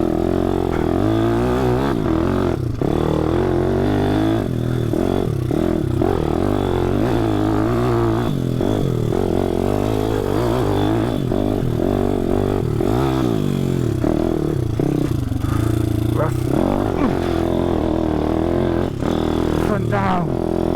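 A 155cc pit bike runs a lap off-road, its engine revving up and down continuously and loud, with clattering and scraping as it rides rough ground and a voice talking at times over the noise.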